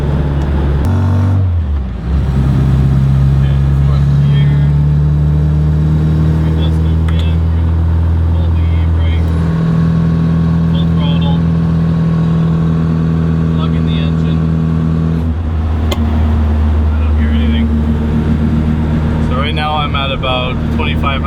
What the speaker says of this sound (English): we're just going to listen to the engine